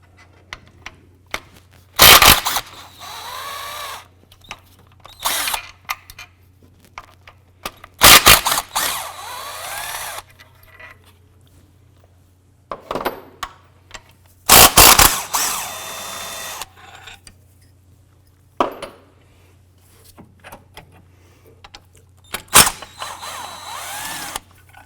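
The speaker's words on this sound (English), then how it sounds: "Using a 14mm socket, we're going to go ahead and remove this bolt" A power tool spins a 14 mm socket on an engine mount bolt of a 2012-17 Toyota Camry, giving several short sharp whirring bursts separated by quiet stretches and faint clicks over a low hum.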